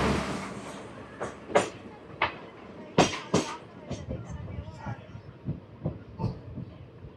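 A passenger express train pulls out of Namburu station after a short halt, its wheels beating a loose clickety-clack rhythm of separate rail-joint knocks over a low, rumbling hiss.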